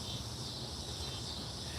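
Cicadas buzzing outdoors, a dense, continuous high drone that holds steady and loud throughout with no break, no voices.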